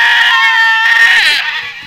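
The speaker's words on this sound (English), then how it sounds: "That's a goat." A goat in a video game lets out a loud, drawn-out, wavering bleat that fills nearly the whole moment before trailing off, with no speech over it.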